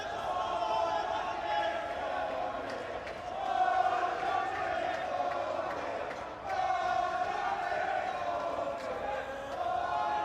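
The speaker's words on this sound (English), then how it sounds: "It's a great atmosphere up there, isn't there? Sellout crowd already here in Milan" A sellout stadium crowd in Milan on day one of a Uzbekistan versus Saudi Arabia match keeps up a dense, steady roar that swells now and then, with commentary voices talking over it.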